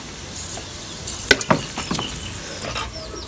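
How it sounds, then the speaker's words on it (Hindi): Whole garam masala spices (cumin, cloves, green and black cardamom, cinnamon, black pepper) fry in hot ghee for biryani, a light sizzle near at hand with two sharp clinks and a few stirring scrapes. "गर्म मसाले में थोड़ा फ्राई करांगे।"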